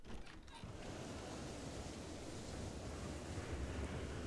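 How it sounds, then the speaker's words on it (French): Icy wind blowing in the Project Zomboid video game, a steady broadband whoosh of winter gusts, loud and continuous throughout the short stretch after a brief softer start, with no voice. "Ah oui, vent glacial,"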